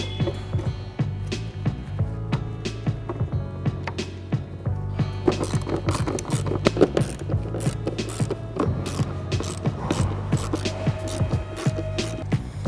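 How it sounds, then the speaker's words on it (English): A ratchet wrench clicks steadily as 7mm bolts are tightened on a 2015-2017 Ford F-150 tail light, close and fairly loud, with a constant low hum underneath and short pauses between runs. "And then reinstall your 4 7mm bolts."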